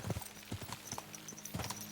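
Horse hooves clip-clop while riding in the medieval game Kingdom Come: Deliverance 2, a quick rhythmic gallop of close, distinct hoofbeats.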